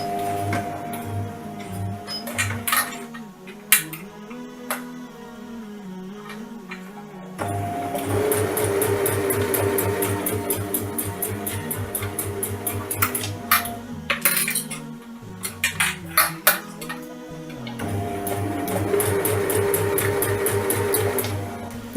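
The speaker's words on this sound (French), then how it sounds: "je passe à la machine à coudre et je vais coudre en fait donc, mon ourlet donc au point droit normalement" A sewing machine runs a straight stitch along a fabric hem for a spring cape, with steady rapid mechanical ticking in several long runs broken by short pauses, close and clear with no talk.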